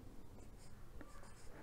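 Pen or marker strokes scratch across paper or a board while a maths equation is written out, a few short quiet scribbles in a near, otherwise still room.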